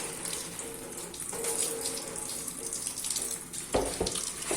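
Water runs steadily from a tap into a container of moong bean sprouts, a continuous splashing flow with a brief louder gurgle near the end as it drains.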